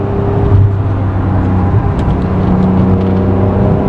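An Acura NSX driven on errands around Anchorage, a close steady engine hum and road drone from inside the car with slight pitch shifts, loud and continuous throughout.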